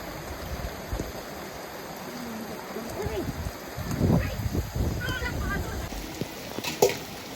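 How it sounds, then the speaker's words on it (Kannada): Heavy rain pours down in a steady, rushing hiss as people talk intermittently over it. "ಮಳೆ ಮಾತ್ರ ಭಾಳ ಬರ್ಲಕತ್ತದ"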